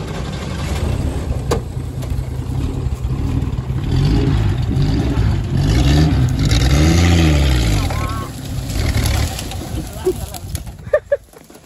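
A Jeep engine revs in first gear, rising and falling loudly over several seconds while people shout instructions nearby, then drops off toward the end.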